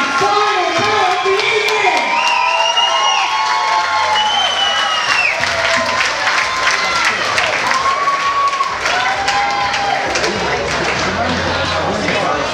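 A crowd at a boxing event applauds and cheers after the final round of a bout, with loud, sustained clapping mixed with whoops and shouting voices throughout.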